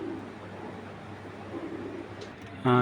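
Pigeons coo faintly in a loft or cage area, a low murmur under the general background. A voice comes in briefly at the very end.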